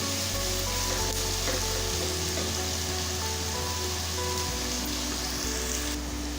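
Onions sauté in a pan for Kerala-style nadan chicken curry, giving a constant moderate hiss like light rain under a low steady hum, with no talking.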